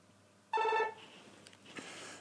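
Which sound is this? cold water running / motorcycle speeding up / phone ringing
phone ringing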